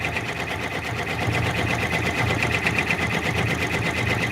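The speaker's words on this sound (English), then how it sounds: "now here you can hear the machine" Embroidery machine stitching a back stitch on a stuffed toy in the hoop, a steady, fast mechanical chatter with a rapid needle rhythm that runs evenly and loudly throughout.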